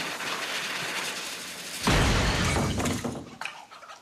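A film shot from a three-barrelled cannon: a sudden loud blast cuts in near two seconds, with broad crackling debris and rumble that trails off over the next two seconds, alone without speech.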